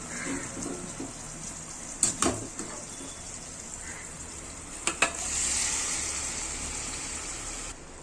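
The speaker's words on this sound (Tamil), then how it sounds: "இந்த எண்ணெயிலேயே வந்து சிக்கன் அந்த மசாலாவோட நல்லா ஒரு ஃபைவ் மினிட்ஸ் வதக்கிட்டு" Chicken coated in masala sautés in hot oil for an Ambur chicken biryani, giving a faint, steady sizzle with a few sharp clanks of stirring and a louder hiss near the end.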